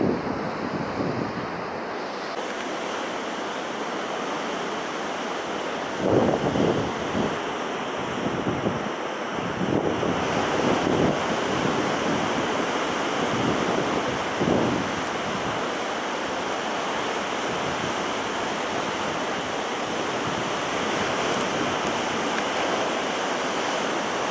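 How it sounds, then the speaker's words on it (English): Messy ocean swell breaking at Jeffreys Bay, a continuous roar of surf with heavier crashes surging in the middle, heard from a distance under steady wind buffeting the microphone. "Now this swell's a lot messier here, not as cleaned up."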